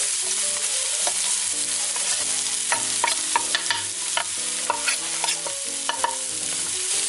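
Garlic and onion sautéing in a pan for macaroni soup: a continuous sizzle with frequent clicking, scraping strokes of a spatula as they are stirred, close up, with no voices.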